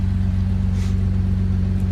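A convertible car's engine idles in snowy weather, a steady low rhythmic throb with even pulses, close and fairly loud, continuing unchanged with no voices.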